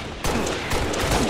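A grenade launcher fires in a video game match against a jetpacking opponent, a sudden loud blast breaking in after a short quiet lead-in and rolling on as a dense, sustained roar of explosive noise.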